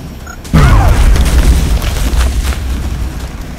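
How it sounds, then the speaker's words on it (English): A grenade goes off in XCOM: Enemy Unknown as one loud, deep boom after a brief quiet moment, its low rumble rolling on and slowly fading over the following seconds. "Grenade, it looks like."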